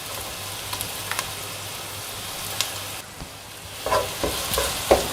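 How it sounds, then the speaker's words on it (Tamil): Onions with ginger-garlic paste sautéing in a pan for a potato gravy, a steady soft sizzle broken by scattered scraping stir strokes that grow busier toward the end, with no talking. "பச்சை வாசனை போகிற வரைக்கும் நம்ம வதக்கிக்கலாம்."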